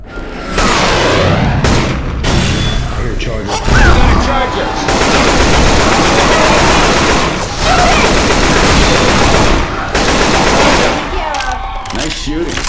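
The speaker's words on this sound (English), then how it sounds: "Nice shooting." Heavy automatic gunfire in Left 4 Dead 2, Charger versus mode on The Parish, roars loud and nearly continuous in long bursts broken by short pauses, with booming reports layered through the chatter of weapons.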